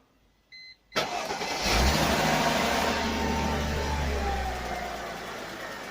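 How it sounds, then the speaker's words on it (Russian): A car engine, freshly replaced, cranks and starts after a short beep, then runs steadily at idle with a brief rise in revs, close and loud, without knocking. "Теперь двигатель не стучит."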